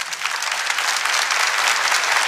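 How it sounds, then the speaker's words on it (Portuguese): A church congregation at a Thursday adoration service bursts into steady applause, a thick, continuous wash of many hands clapping at once with no speech over it. "Aplauda."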